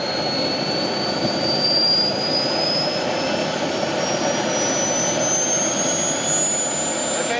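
A scale model gas turbine locomotive running on kerosene spools up with a loud, steady jet roar and a high whine climbing slowly in pitch, close by and continuous throughout.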